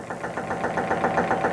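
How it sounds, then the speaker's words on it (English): A laboratory test engine knocking and pinging on 74-octane gasoline, with a loud, rapid, regular knock pulsing over a steady idle hum and no voices. "Pings and knocks, and the so-called knock meter on this test engine, which should read about 0, now up to 80."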